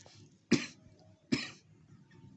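Two sharp coughs about a second apart, close and fairly loud, with a quiet hum underneath.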